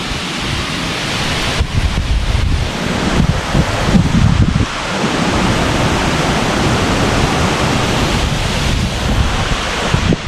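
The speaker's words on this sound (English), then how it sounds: "I don't know if you can hear the wind." Strong, gusty wind blows outdoors on a cold, harsh morning before a track race in Hengelo, roaring steadily across the microphone with brief surging gusts and no talk.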